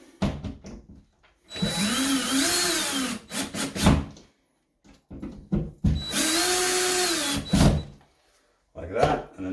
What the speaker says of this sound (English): And then we can screw that in.